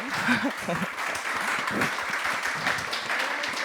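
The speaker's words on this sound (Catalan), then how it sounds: "si voleu aplaudir les ponents abans de passar" An audience at a round-table panel discussion applauds the speakers, with steady clapping throughout, fairly faint, mixed with a few voices.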